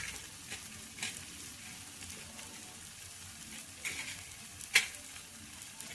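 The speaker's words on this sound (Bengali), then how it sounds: "দিয়ে এবার ভালো করে নাড়াচাড়া করব" Banana flower with coriander leaves stirred in a pan, a soft steady sizzle with a few scraping spoon strokes, one sharper clack near the end, no voices.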